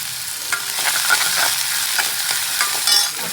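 Paste and onion frying in hot oil in a pan, a steady bright sizzle with light stirring taps, close and continuous.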